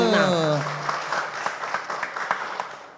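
A voice speaks briefly, then a crowd breaks into clapping that continues steadily, moderately loud, at an anniversary event in Yogyakarta.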